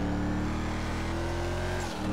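Car engine in an online multiplayer video game holding a steady, loud drone with low harmonics throughout, ending with a short dip, no talk over it.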